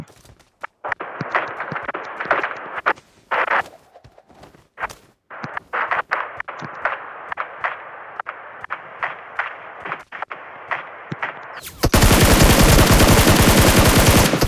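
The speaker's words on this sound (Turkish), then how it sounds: "Silah atışı nereden geliyor?" Video game gunfire in a snowy ice map, with sharp single shots and short bursts spread among footsteps and movement sounds, ending in a loud, dense stretch of rapid firing.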